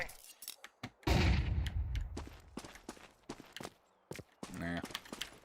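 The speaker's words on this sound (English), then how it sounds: "Deploying flashbang." A video game flashbang grenade goes off with a sudden loud burst that rings and decays over about a second, surrounded by light clicks, footsteps and other game noises.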